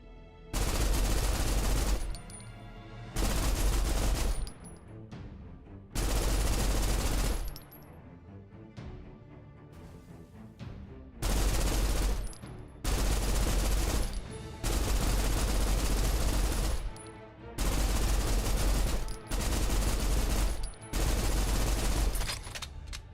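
Loud bursts of sustained automatic fire from a belt-fed turret gun in the video game Snowbreak come in about eight long bursts, each lasting a second or two, separated by short quieter gaps.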